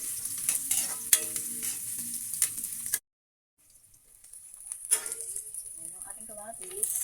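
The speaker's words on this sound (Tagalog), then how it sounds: "Konting gisa lang naman ito mga sis kasi sinigang lang naman ito." Aromatics sizzle and are stirred in a pan for sinigang sa miso, a close crackling fry with scraping stirs that cuts out briefly and then resumes, with a voice speaking over parts of it.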